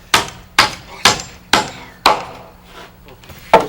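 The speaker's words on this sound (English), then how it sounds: "Back at the other end, Joe nails a 2x6 to either side of the post and beam to lock them in place." A hammer drives nails into a 2x6 against a post and beam during roof framing, producing six sharp, evenly spaced strikes about half a second apart, close and loud, with a brief gap before the last blow.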